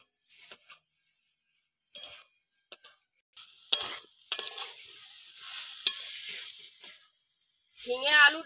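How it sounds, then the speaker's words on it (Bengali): Ridge gourd, potato and moong dal frying in a pan, short bursts of sizzling and stirring scrapes separated by quiet gaps, with a longer sizzle in the middle and a faint voice near the end. "ঝিঙে আলু ডালটা একটু হালকা করে ভেজে নিয়েছি।"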